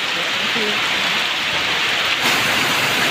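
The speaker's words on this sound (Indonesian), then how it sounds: "Hujan berkah ya mah hujan berkah" Steady, dense rain falls close by, a broad even hiss with a louder patter near the end, heard alone without talk.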